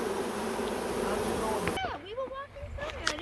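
Honey bees fan and buzz at a landing swarm in trees, a dense, steady drone filling the first half before thinning into scattered close passing buzzes with rising and falling pitch.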